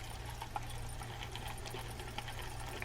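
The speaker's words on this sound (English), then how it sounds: "This one has a pretty significant gear grind in it." A left-handed Corvallis CV401 fishing reel with a stuck free spool release turns with a steady, gritty gear grind, a close continuous rough whirring with faint clicks throughout.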